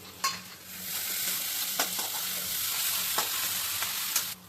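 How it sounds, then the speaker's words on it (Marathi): Fish curry masala spices fry and sizzle in hot oil in a home kitchen, a continuous close crackle broken by a few sharp stirring clinks, with no talking. "तर तेल तापले मस्तपैकी सगळ्यात आधी मसाला टाकून घेऊया"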